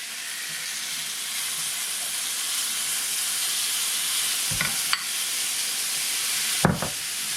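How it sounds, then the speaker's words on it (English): Celery, onions and carrots sautéing together in a pan, giving a steady soft sizzle and hiss throughout with a couple of brief stirring clatters near the end, with no talk. "we're going to saute all those together"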